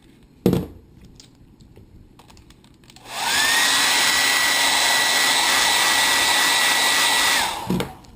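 Hot air blower heating an iPod touch to open it: a click, then a steady loud whooshing blower hum that runs for about four seconds close by before cutting off with a clunk.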